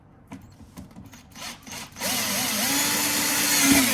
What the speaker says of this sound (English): I'll just get a drill and drill through.